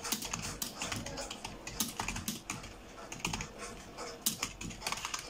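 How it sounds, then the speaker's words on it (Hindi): Rapid, steady clatter of keys on a computer keyboard during a typing test, close and continuous throughout with uneven bursts of keystrokes and no talking. "मेरी जो टाइपिंग है वो कम्प्लीट ही होने वाली है"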